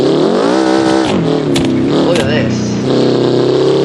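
A Subaru Baja engine in a driving simulator revs up and down in rising and falling sweeps, then sputters before dropping off as it stalls, loud and close, with someone talking over it.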